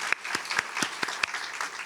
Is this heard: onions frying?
no